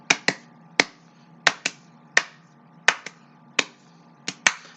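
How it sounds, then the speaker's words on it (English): Sharp hand claps in a quick, steady rhythm of doubled pairs mixed with single claps, close and crisp in the setting of a pro wrestling ring, with no talking. "Now double claps."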